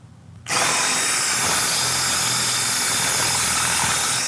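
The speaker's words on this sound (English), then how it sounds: "Using our hammer drill and a masonry bit, we're going to pre-drill the block" A hammer drill with a masonry bit starts abruptly and runs at full speed into masonry block, a loud, steady, harsh whine with rapid pounding, very close and continuous to the end.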